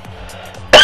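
A single loud, harsh cough bursts out suddenly at the end after a quiet moment, close to the microphone, during a Minecraft building session.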